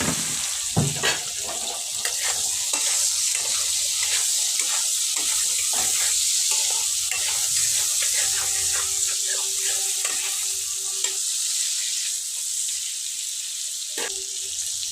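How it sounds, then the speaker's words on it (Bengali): Eggplant pieces fry in hot oil, giving a continuous close sizzle and hiss throughout with occasional clicks and stirring knocks from the pan. "এই বেগুনগুলো আমি ভেজে নেব।"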